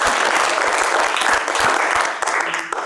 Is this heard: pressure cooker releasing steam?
no